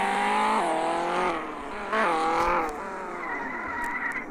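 A modified Tofaş Şahin in a drift game revs hard through several bursts, its engine note climbing and dropping between shifts while the tyres squeal beneath, loud and close.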